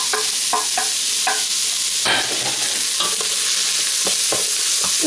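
Carrots and turnips sauté in a pan over high heat, a loud dense sizzle running throughout with repeated scraping stirs and occasional clicks of the utensil against the pan.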